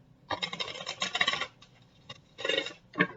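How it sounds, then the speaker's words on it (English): A deck of tarot cards is shuffled close up in bursts of crisp riffling and rasping, one long run followed by shorter flurries and a final quick flick, with no voices over it. "One more shuffle and then I'll cut."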